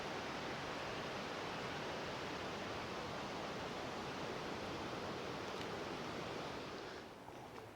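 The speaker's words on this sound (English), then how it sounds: "The sound of the waterfall in the background." A waterfall roars steadily at Gosausee lake in the Austrian Alps, a dense, continuous wash of falling water that stays loud and unbroken, easing slightly just before the end.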